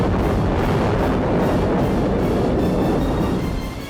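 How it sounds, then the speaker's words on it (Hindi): A loud, sustained roaring rumble of a massive underground hydrogen bomb test blast in a mountain tunnel in North Korea, deep and continuous, slowly fading toward the end. "बम को एक्टिवेट कर दिया गया और उसके बाद जो धमाका हुआ"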